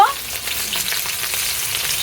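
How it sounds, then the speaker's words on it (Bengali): Rohu fish frying in a pan of hot oil, a steady close crackling sizzle with bright spitting pops throughout, no voices. "এবার মাছগুলো প্রায় ভাজা হয়ে এসেছে"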